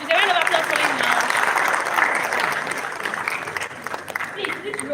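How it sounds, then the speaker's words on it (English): An audience at a DevFest tech conference claps in a sustained burst of applause that fades gradually, with a voice speaking faintly beneath the clapping. "Is there a round of applause for him now?"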